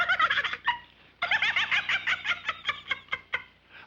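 A cartoon goose honks and squawks over and over in rapid, chattering bursts, loud and close, with a short pause partway through and no talk.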